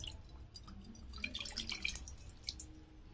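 Water poured into a freshly washed wok set on the stove, a soft trickling splash with scattered drips, close and fairly quiet with no voices.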